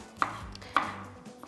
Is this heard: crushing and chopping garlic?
yes